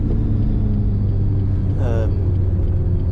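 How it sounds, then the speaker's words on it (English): A Grand Am prototype race car sweeps past on the Silverstone Grand Prix circuit during a track day, its engine note rising and falling in a brief pass over a steady low rumble of idling traffic nearby. "old Grand Am prototype."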